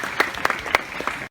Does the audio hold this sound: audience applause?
yes